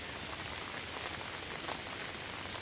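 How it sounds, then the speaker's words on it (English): Steady rain patters on a surface at a campground in Bayfield, Wisconsin, a soft continuous hiss of drops with no voices. "Alright, it's rain."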